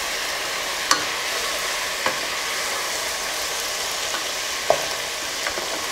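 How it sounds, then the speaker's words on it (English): A stew cooks with syrup just added, a steady close hiss of heat under a few sharp spoon knocks against the pot as it is stirred, with no voices. "We will add more syrup. And stir again."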